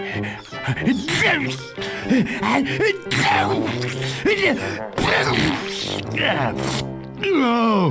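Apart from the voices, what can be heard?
character sneezing in Toonstruck video game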